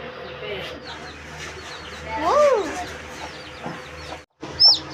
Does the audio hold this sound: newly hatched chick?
yes